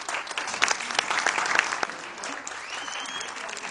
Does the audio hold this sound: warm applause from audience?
yes